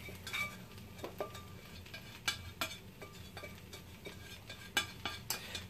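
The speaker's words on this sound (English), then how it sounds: "we're going to transfer our caramelized onions into our pan here. Into the pan of beans." Caramelized onions scraped from a utensil into a pan of beans, faint clinks and light scraping taps at an uneven pace with a soft sizzle beneath.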